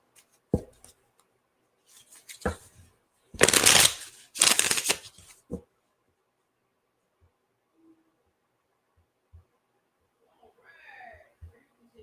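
Tarot cards shuffled for a reading: a few crisp riffling bursts, two longer and louder, with soft card taps in between and faint murmuring near the end.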